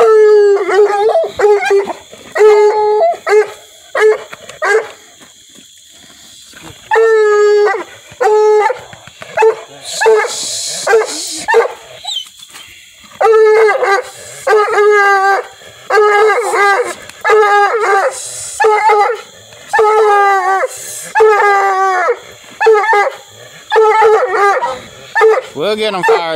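Coon hounds in training bay and howl in a long, loud, close chorus, bursts of barking and drawn-out howls repeating in waves with brief pauses between.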